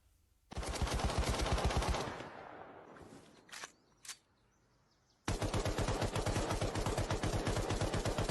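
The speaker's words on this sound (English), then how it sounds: "Look what they're firing into that house. This is a nasty motherfucking machine gun." Heavy machine gun fire poured into a house near the center of Bakhmut: a long, loud burst of rapid automatic shots, a pause with a couple of sharp single cracks, then another sustained, dense burst.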